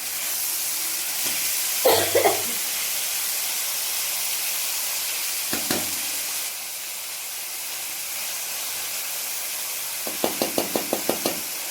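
Vegetables frying in a pan for home-style pasta with chopped green chilli give a steady broadband sizzle, broken by a few sharp knocks of a spatula against the pan and a quick rattling series near the end.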